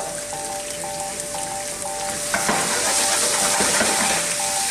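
Chicken and aubergine pieces sizzle and brown in a pan over high heat, a loud, steady crackling hiss with occasional stirring scrapes and faint repeated beeping in the background.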